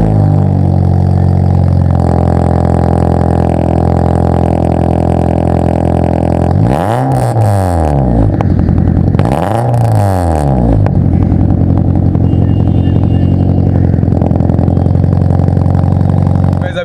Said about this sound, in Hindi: सबसे पहले आपको इसका कोल्ड स्टार्ट बता देता हूँ कि कोल्ड स्टार्ट कितना ज़्यादा लाउड है।